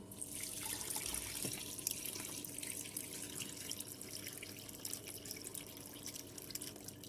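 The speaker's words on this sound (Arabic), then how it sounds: "هلا رح ننزل مرقة الدجاج" Chicken broth pours steadily into a pot of rice and fried eggplant for a chicken maqluba, a faint continuous splashing trickle with no talking.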